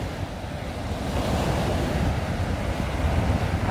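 Ocean surf rolls and breaks at a stand-up paddle board surfing beach in Australia, a steady broadband wash of waves with wind buffeting the microphone throughout.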